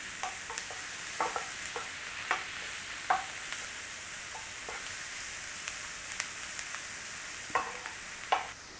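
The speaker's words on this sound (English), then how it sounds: "Little stir through." Onions seasoned with salt and pepper being stirred in a frying pan, with scattered scraping taps of the utensil over a steady soft sizzle, close and moderately quiet.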